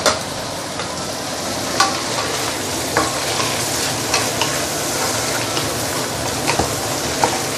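River prawns fry and get stirred in a hot wok for chow mein, giving a loud steady sizzle with scraping stir strokes and occasional sharper clinks, close up with no voice.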